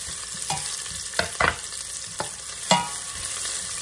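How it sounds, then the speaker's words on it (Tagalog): Onion and then garlic sauté in hot oil in a pan, a constant close sizzle broken by several sharp spatula scrapes and knocks, with no voices. "Magigisa lang muna ako. Maglalagay ako ng sibuyas. Ayan, next na natin yung bawang."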